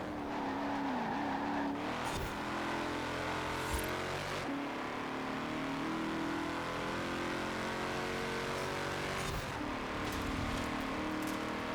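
Hybrid-engine race cars in Forza Horizon 4 rev and accelerate through gear changes, with engine pitch climbing and dropping over a steady, fairly quiet motor drone and occasional tire squeals. There is no talk over the engines.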